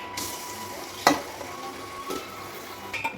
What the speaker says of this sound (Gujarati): હવે આને આપણે નીચે ચોટે નહીં એવી રીતે આમાં ફેરવીશું.